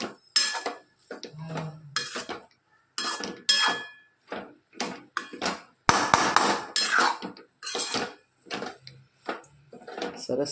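A utensil clinks and scrapes against a pan while poha with groundnut oil is stirred, giving irregular, fairly close metallic knocks and scrapes in quick bursts with brief pauses between them.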